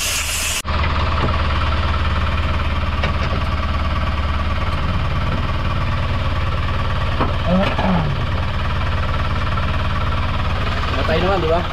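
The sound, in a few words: Suzuki Super Carry 2-cylinder diesel engine running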